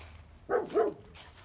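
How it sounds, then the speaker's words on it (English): A guard-breed dog gives two quick, fairly faint barks or yips from inside a truck, with quiet background between them. "she's already busy barking in another truck"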